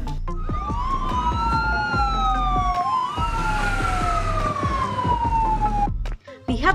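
A video game fire truck siren wails loudly, its pitch sweeping up and down in long cycles over a rumbling engine with rapid clicking underneath.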